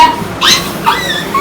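During a kids' game of passing balls under the body, children imitate a dog with a few short, whiny yips and whimpers, close and loud, in quick bursts.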